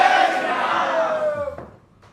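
A studio audience cheers loudly and claps for a guest spiritual leader at an interview stage event, a dense roar with a sustained shout that fades out near the end.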